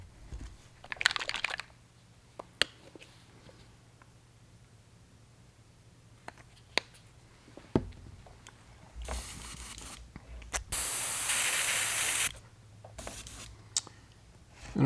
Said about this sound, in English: Now I'm going to add a little wicked gold into the airbrush.